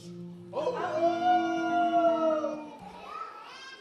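Wolves howling at night in a children's story, a long rising and falling tonal howl, fairly close, joined by a second fainter howl near the end.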